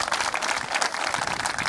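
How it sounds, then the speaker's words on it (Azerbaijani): Soldiers at a military unit applauding, a dense, continuous burst of many hands clapping that fills the room. "Alqışlayaq xahiş edirəm."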